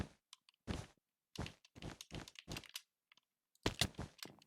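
Fast mouse and keyboard clicking during a game of Bed Wars on Hypixel: bursts of close, sharp clicks in quick irregular clusters, separated by short silent gaps.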